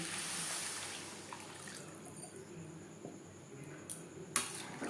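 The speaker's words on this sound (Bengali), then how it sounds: "মশলার সাথে আলু মটর পাঁচ ছ মিনিট নাড়াচাড়া করে নেওয়ার পর দিয়ে দেবো জল" Water is poured into a pan of spiced potatoes and peas for vegetarian ghugni, a soft, quiet splashing pour at first that thins to a faint hiss, followed by a couple of small clinks.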